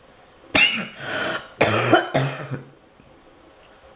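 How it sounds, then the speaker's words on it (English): A woman at her craft table coughs: a few sharp, harsh coughs in quick succession, close and loud, followed by a throat-clearing rasp, then quiet. "as soon as I start talking, then I start coughing"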